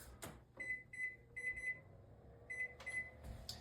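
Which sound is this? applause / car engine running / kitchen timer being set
kitchen timer being set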